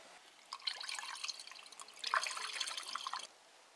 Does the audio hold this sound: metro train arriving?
no